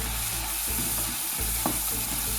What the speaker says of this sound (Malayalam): ഇതിലേക്ക് വെളുത്തുള്ളി ഇഞ്ചിയും ചതച്ച് വെച്ചതും പച്ചമുളകും ഇട്ടിളക്കാം.